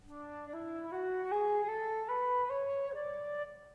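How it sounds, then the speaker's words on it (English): A single clear tone plays a short stepwise ascending melody in the Lydian mode, eight or so evenly spaced notes, quiet and alone. "The melody uses the Lydian mode, which sounds like this."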